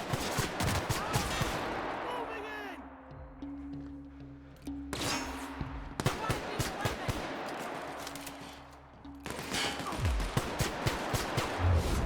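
Rapid bursts of gunfire in The Outer Worlds, with repeated loud shots and automatic volleys broken by short lulls, over a low droning game soundtrack.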